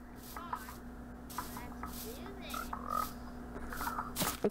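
A frog in the Minecraft video game croaks a few times in short, chirpy bursts. Light clicking and clattering game sounds run under it at moderate volume.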